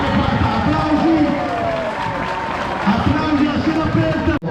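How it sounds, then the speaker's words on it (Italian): Open-air crowd applause at a Sardinian pariglia horse-riding event in Pozzomaggiore, dense sustained clapping mixed with crowd murmur and talk, loud and close from start to finish. "applausi a cielo aperta"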